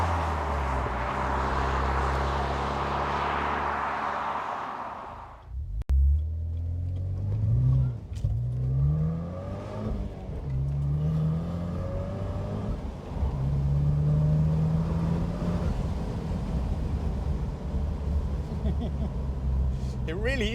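A 260 hp Opel GT engine and exhaust accelerate through the gears, with a rushing whoosh and then repeated rising engine sweeps that drop at each gear change, fairly loud from inside the car.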